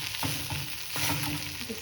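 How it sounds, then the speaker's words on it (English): A capsicum and gram flour sabzi, moistened with a little water, sizzles in a pan while a spoon stirs it, giving a few distinct scrapes over a steady hiss. "Mix it all well."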